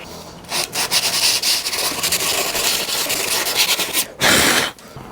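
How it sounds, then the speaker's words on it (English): A block of spare wood wrapped in 80 grit sandpaper rubs back and forth over a wooden workpiece, close and loud, in repeated rasping strokes with a brief harder burst near the end. "this is just a piece of 80 grit wrapped around a spare piece of wood"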